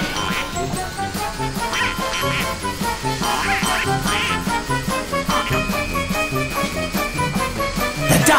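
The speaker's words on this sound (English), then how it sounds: "Ducks have moved, mortals!" Ducks quack over and over in the Team Fortress 2 Halloween doomsday map, a loud and busy game scene with dense rhythmic quacking and tinkling game effects throughout.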